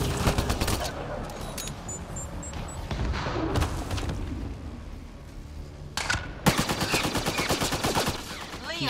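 Gunfire in the video game Mass Effect: Andromeda comes as dense bursts of rapid, loud shots, a brief lull in the middle, then another heavy volley. Game sound effects play alongside the shooting.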